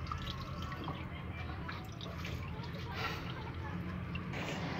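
Water splashing and dripping while dirt is rinsed out of a field pump part during repair, a steady close wash with scattered drips throughout.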